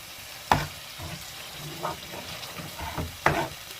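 Makki ki roti with mixed saag roasting in a pan, a soft steady sizzle broken by a few sharp spatula scrapes and taps, no speech.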